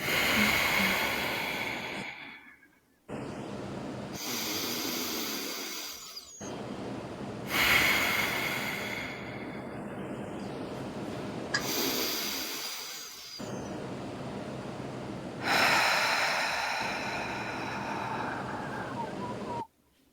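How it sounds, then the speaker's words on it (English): Deep Ujjayi ocean breaths, slow and audible, each long breath carrying a soft, hissing, wave-like rush, with about five breath cycles separated by brief near-silent pauses, close to the microphone and no talking. "For me, it's Uaji breath, which is ocean breathing."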